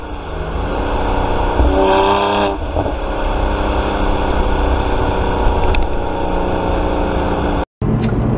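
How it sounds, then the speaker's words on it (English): A BMW 1M with an aftermarket exhaust revs hard and accelerates with a loud, deep exhaust roar, steady and close, with no voices. "So you've been hearing accelerations, and that's not stock"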